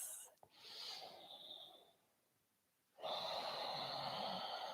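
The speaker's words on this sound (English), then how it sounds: "Breathing in through the nose and out through the nose." Slow, deep breathing through the nose during a yoga class, close and airy: a long exhale tapering to near silence, a brief pause, then a strong, steady inhale.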